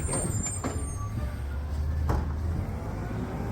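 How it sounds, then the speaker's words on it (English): Large truck passing nearby, heard as a low, steady engine rumble with a faint hiss and clunk partway through. "Wait until we get past this truck here."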